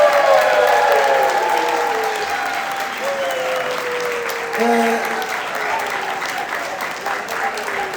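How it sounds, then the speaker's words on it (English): Audience applause at a U.S. Taido 50th anniversary celebration, a sustained crowd clapping that fills the room steadily for the whole stretch, with voices talking faintly underneath. "Round of applause for Suzuki sensei!"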